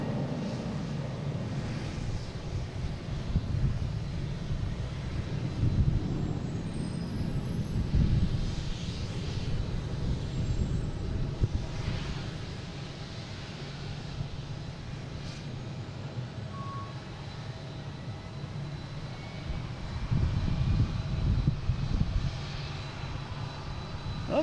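An Air Canada Embraer E175 airliner taxis to park at Boston Logan, its engines giving a steady, broad roar that holds for the whole stretch with slight swells in loudness.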